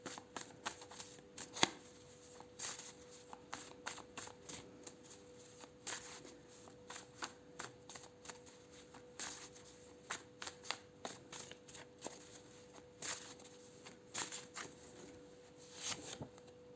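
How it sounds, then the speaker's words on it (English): Lifestyle and health oracle cards are shuffled and pulled from a deck, with a steady run of crisp riffling clicks and soft slaps close by, and no talking. "I'm gonna pull some lifestyle and health cards for you as"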